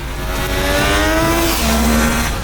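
A 2024 Triumph Daytona 660 inline-triple sport bike engine revs hard and loud, a sustained buzzing drone with rising pitch and a brief dip before climbing again, close and alone without talk.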